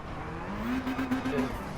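A race car downshifting to third gear at Lake Louise in Gran Turismo 7, the engine note rising and blipping briefly in a close, steady roar with a hint of tire noise.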